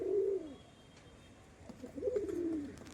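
Kaldumma pigeons coo nearby, two soft, throaty rolling coos separated by a short pause, over quiet background hum.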